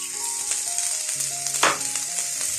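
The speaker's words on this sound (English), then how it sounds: "And give that a nice stir." Dark soy sauce being stirred into a pan of frying food, producing a steady close sizzle with light scraping and a brief louder burst partway through.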